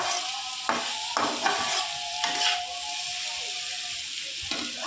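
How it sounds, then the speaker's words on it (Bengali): A spoon stirs sugar into a pan of greens and potato curry, with scraping strokes and a few clear clinks against the pan over a steady sizzling hiss. "চিনি দিয়ে আবার একটু নাড়াচাড়া করে নেবে, চিনিটা যতক্ষণ না গলবে ততক্ষণ একটু নাড়াচাড়া করে নেবে"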